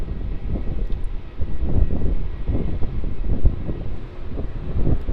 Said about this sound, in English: entering 16 for departure, we have the QantasLink Q300